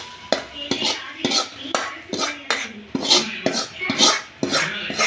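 Kumuti greens, cooked soft, are mashed together with green onion in a metal pot, giving repeated sharp scraping knocks of a masher or spoon against the pot in a steady, uneven rhythm, close and fairly loud with no talking.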